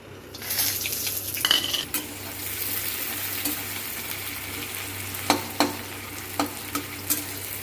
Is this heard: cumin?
yes